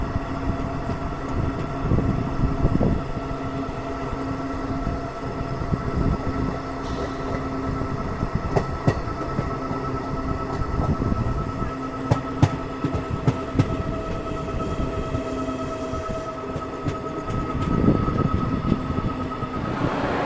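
The 12311 Netaji Express passenger train running from Howrah toward Kalka, heard from inside as a constant loud rumble with rhythmic clatter of wheels over rail joints and occasional metallic squeals, no speech.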